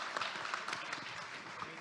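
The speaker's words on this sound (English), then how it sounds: "a round of applause for our stars on the stage" Applause for a conference panel on stage at a startup conference, a fairly faint, scattered clapping from the audience with a voice speaking over it.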